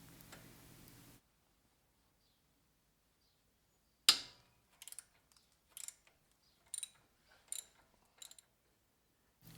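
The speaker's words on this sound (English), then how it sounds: "Next, remove this 12 millimeter bolt on this bracket." Ratchet loosening a 12 mm bolt on a Toyota 4Runner front brake bracket: after a faint start and a pause, one sharp metallic clack followed by a series of short, close ratcheting bursts separated by brief silences.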